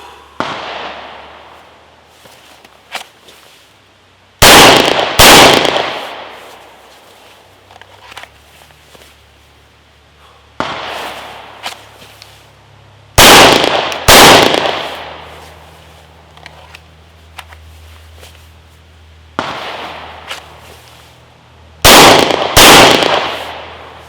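Pistol shots ring out at 7 yards during a qualification course, loud sharp cracks fired in three spaced volleys of two rapid rounds each, with quiet shuffling and small handling noises between.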